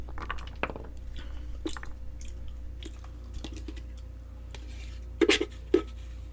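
Raw pomegranate seeds being chewed close up, with a few soft crunching bites and then two or three sharper, louder crunches near the end against a quiet background.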